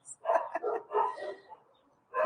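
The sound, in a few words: dogs barking at home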